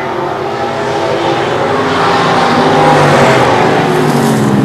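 Winged short track race cars on a New Hampshire speedway roar together into turn three, a loud, steady multi-engine drone that swells slightly as the pack passes, with no talking.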